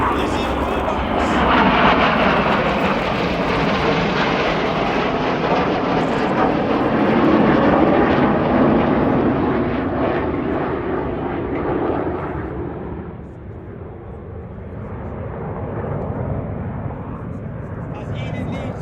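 RAF Red Arrows jets in a display at the Royal International Air Tattoo, two aircraft rolling outward: a loud, sustained jet roar that swells and eases slightly, with a commentator talking over it.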